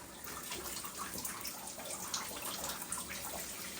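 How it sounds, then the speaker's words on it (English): A tap runs into a bathroom sink or shower as hair is being washed, giving a steady, moderately loud rush of water with faint splashes throughout and no talking. "Go ahead, turn your water on."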